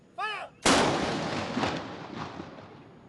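Cannon salute fired in an outdoor ceremony, a single loud booming blast with a long rumbling decay, just after a brief whistling tone.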